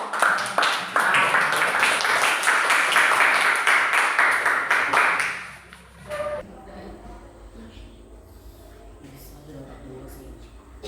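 Classroom students clap for a group returning to their seats, a steady burst of applause that stops abruptly midway, followed by quieter room noise and faint voices.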